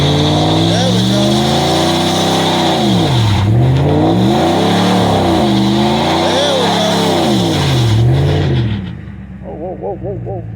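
A fourth-generation car's engine revs hard and repeatedly sags as it tries to shift, the RPMs rising and falling in several surging waves, loud and close, before dropping to a quieter idle.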